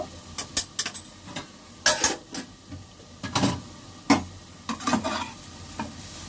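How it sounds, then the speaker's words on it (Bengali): Snake gourd frying in a pan with turmeric and salt, a steady sizzle broken by repeated scraping stirs and clinks of a spatula, close and moderately loud with no talking. "সিম্পল ভাবে ভেজে নেব চিচিঙ্গাটা"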